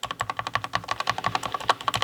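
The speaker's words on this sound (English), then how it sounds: "The enter key," Keys on a Durgod K620W mechanical keyboard tapped in rapid succession, with one slightly heavier press standing out. The clacks are close, clear and evenly spaced, and no one speaks.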